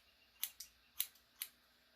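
Scissors snip hair during a basic haircut at home, four crisp, close metallic cuts spaced at an uneven rhythm over a quiet background, with nobody speaking.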